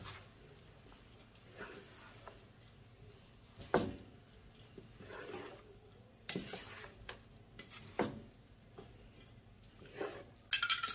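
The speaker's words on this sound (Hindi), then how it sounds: "और ये जो हमारा अंडा बच गया था ये भी, हल्के हाथ से इसको मिक्स करने।" Vegetable fried rice with leftover egg being gently mixed with a spoon in a pan, giving soft, sparse scrapes and occasional clinks at close range, with no talk.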